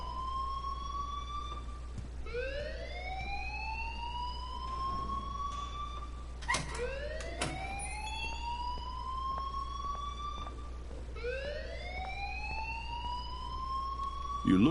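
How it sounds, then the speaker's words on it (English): A rising and falling siren-like alarm wails in the Life is Strange video game, each long upward sweep repeating every few seconds at moderate volume over a steady low hum. "please turn off that alarm since that's your job"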